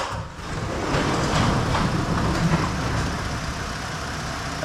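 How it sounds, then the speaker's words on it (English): A car engine idles steadily with a loud whirring emissions air pump under the hood, a constant droning hum heard up close with no talk. "All you hear under the hood is that darn emissions air pump."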